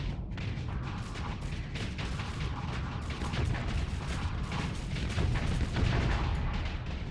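Wave gun energy weapon from StarSector firing repeatedly in a dense, continuous barrage of booming, crackling shots with steady loudness throughout.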